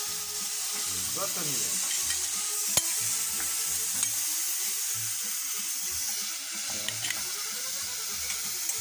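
Cheese stirred in a pan while making a roux gives a steady bubbling sizzle with scraping spoon strokes, continuous and close, and a voice briefly speaks over it.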